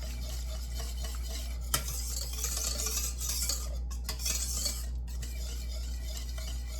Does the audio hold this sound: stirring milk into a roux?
yes